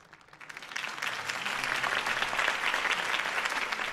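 Crowd applause following Harvey Dent's campaign speech in the Batman Telltale game, building from a few claps into dense, sustained clapping that fills the scene for several seconds.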